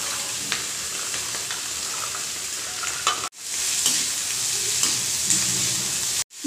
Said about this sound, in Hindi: आधे मिनट भुनने के बाद डालेंगे कटा हुआ आलू।